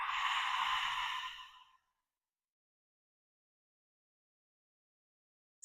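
An audible exhale during a yoga stretch, a single soft, breathy sigh that fades out after about two seconds, followed by silence.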